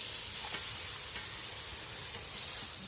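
Jola bhaji fries during an Uruka night feast, a soft, steady sizzle that stays fairly faint and unbroken.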